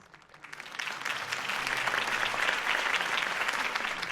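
In Batman TTS, a crowd applauds after a city election campaign speech, the clapping swelling quickly and holding as a dense, steady roar of hands.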